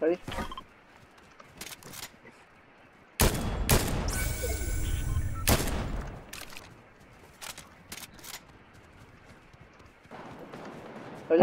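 Machine gun fire in a video game: scattered sharp shots, then a dense, loud burst of rapid fire lasting about two seconds mid-clip, followed by more sporadic reports and faint background activity.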